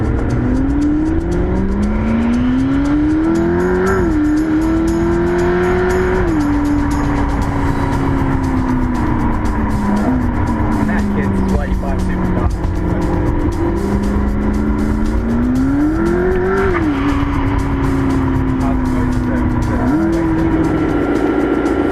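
A McLaren P1 sports car accelerates hard, heard from inside on a ride, its loud, continuous engine note climbing in pitch, dropping at gear shifts and climbing again across the whole stretch.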